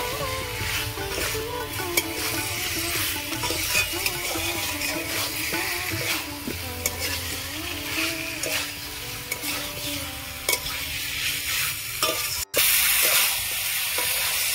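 Fried potatoes sizzling and being stirred in gravy in a pan, a continuous soft frying hiss with occasional spoon scrapes and clinks throughout.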